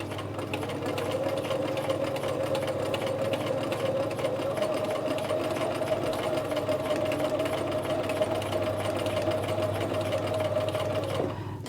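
A sewing machine stitches a flap pocket for a McCall's 8031 pattern, running in one long, steady, close-up hum with a rapid needle rhythm for over ten seconds before stopping abruptly at the end.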